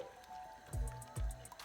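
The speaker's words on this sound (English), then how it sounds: "I'm just going to add a little bit of water to the soup" Water is poured into red lentil soup in a pan, giving a faint liquid trickle with two soft splashy pours close by, with no talk over it.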